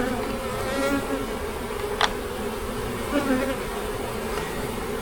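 Honeybees buzzing around a mini nuc hive, a steady droning hum of many bees close by with occasional sharper passes near the ear.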